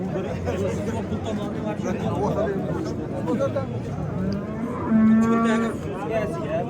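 Cows at the Beshariq livestock market low over a constant background of crowd chatter and people talking, with one clear, drawn-out moo near the end.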